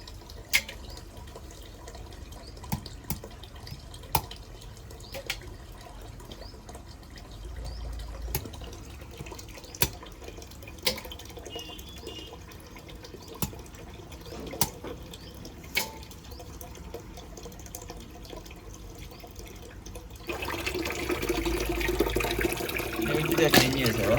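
Sea crabs are rinsed under a tap, with scattered sharp clicks and handling knocks at first, then a steady rush of running water over the last few seconds.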